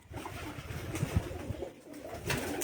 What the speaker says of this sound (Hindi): बड़े कबूतर हैं जी।